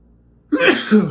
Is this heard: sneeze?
yes